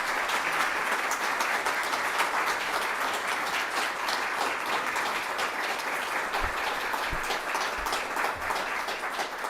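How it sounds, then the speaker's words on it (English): An audience at a conference session on synthetic turf and human health gives Sally a round of applause, a steady stretch of many hands clapping at moderate volume that carries on evenly for nearly ten seconds. "could you guys all give Sally a round of applause"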